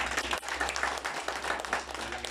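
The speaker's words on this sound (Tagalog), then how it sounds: "isang palakpak kay Kuya Jomel" A church congregation applauds a member after a short testimony, producing a dense, continuous patter of many clapping hands that stays fairly steady for about two seconds with no clear voices over it.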